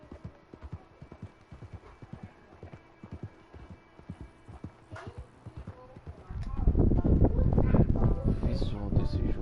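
Horse hooves clip-clop in a steady trotting rhythm in the video game Red Dead Online, rising into a louder, denser gallop with rushing wind in the final seconds.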